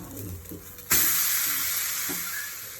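Corn adai (chola adai) flipped onto a pan with oil around it, starting with soft clinks, then a sudden loud burst of sizzling frying that settles into a steady hiss, with a light tap near the end.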